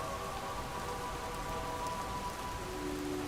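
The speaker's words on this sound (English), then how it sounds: "It's literally raining all over this room." Steady rain falls indoors inside a roofed room in the video game Lies of P, a constant, even patter of drops on surfaces at moderate volume, with a faint tonal hum beneath it and no voices.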